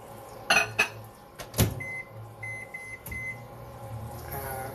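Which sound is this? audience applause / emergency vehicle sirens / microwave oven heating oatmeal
microwave oven heating oatmeal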